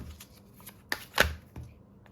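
Tarot cards being shuffled and handled close by, a few soft riffling swishes and light taps, one sharper snap near the middle, quiet and without speech.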